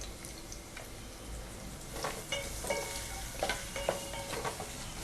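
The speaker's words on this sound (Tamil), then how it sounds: "இப்போ நல்லா நம்ம ஃப்ரை பண்ணிக்கலாம்" Steady crackling sizzle of onions and garlic frying in hot oil on low heat, with occasional scraping stirs and light clinks over a continuous hiss.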